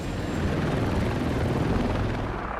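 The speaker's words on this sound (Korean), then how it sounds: "5, 6대의 동일한 헬리콥터가 적의 교란을 위해 배치됩니다." A presidential helicopter in flight gives a loud, steady rotor and engine roar that holds evenly for a few seconds with no talk, broad and rumbling throughout.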